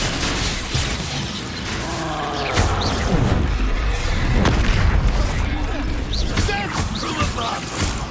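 Explosive blasts of the Confringo spell in Hogwarts Legacy boom loudly amid crashing and clattering game effects, with a player's voice talking over the action.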